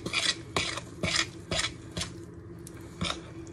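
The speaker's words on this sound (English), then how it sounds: "Go ahead and mix this up." Pie crust dough of flour, butter and water being stirred in a bowl, giving about seven rhythmic scraping strokes spaced roughly half a second apart, close and fairly loud with no talk.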